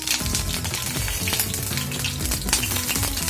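Ghee heating in a pan for frying, ahead of frying vermicelli for an apple kheer, giving a steady close crackle and sizzle with some low clattering, with no voices over it.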